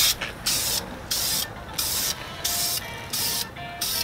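Brake calipers being spray painted with thin coats: short, loud, evenly spaced bursts of aerosol hiss, about eight in a row, each lasting under half a second with brief quiet gaps between them.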